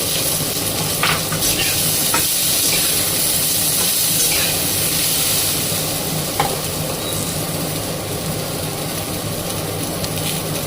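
Chopped new potatoes, skins left on, fry and get stirred in a pan over a gas flame, making a loud, continuous sizzle broken by scraping and stirring knocks, with no talk.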